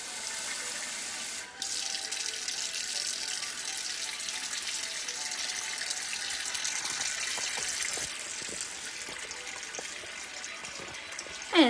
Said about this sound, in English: I'm going to put some cold water in here.